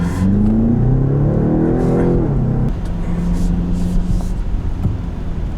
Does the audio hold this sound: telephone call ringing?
no